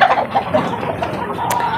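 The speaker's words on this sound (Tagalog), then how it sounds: "yung nakakulong dito na mga manok" Penned chickens cluck in short, close bursts with a brief higher squawk near the end, no talk over them.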